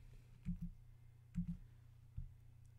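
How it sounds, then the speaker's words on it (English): A few soft keyboard taps on a computer keyboard while entering a keyword, about three short clusters of quiet clicks spaced out over a low room hum. "So I'm just going to put a comma in there and type in Cosmo."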